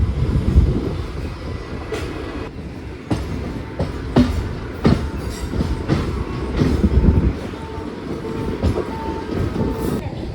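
A WAP7 electric locomotive passing on a railway, a loud close rumble with rhythmic wheel clatter over rail joints and occasional metallic squeals, continuing steadily for the whole stretch.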